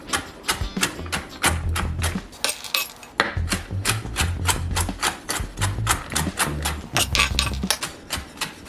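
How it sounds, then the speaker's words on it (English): A knife rough-chops walnuts on a cutting board in rapid, uneven, close taps and thuds that continue steadily throughout, with brief short pauses. "I'm just going to rough chop these."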